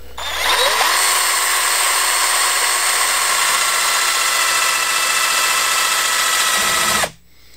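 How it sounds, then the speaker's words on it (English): A high-pitched power drill at top speed whines steadily for about seven seconds while punching into high density foam, loud and close, then cuts off abruptly. "So you just start up the drill to as high as it goes, and then you make a smooth punch down into the material."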